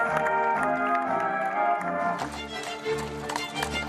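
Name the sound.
Lipizzaner horse hooves clip-clopping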